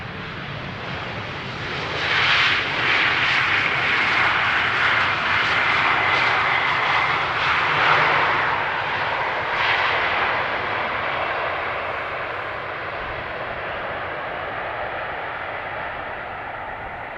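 A large airliner, a Boeing 777, lands at Amsterdam Schiphol on runway 18R, its engines roaring loud and close with a whining rumble, then the sound settles into a steadier, slowly fading drone as it slows and taxis.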